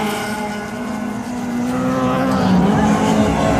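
Race cars of up to 1600cc roar at speed around a supercross track in Walawe, a loud, sustained engine drone rising and falling as they pass close by.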